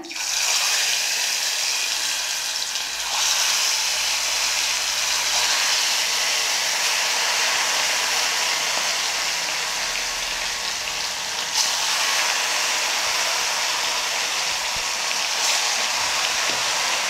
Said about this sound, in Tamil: எண்ணெய் சூடாகிடுச்சு இப்போ நெத்திலி மீனை கொஞ்சம் கொஞ்சமாக போட்டு பொறிச்சு எடுத்துடலாம்